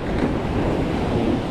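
Sea waves wash onto a shore in a steady, loud roar, with wind buffeting the microphone and no talking.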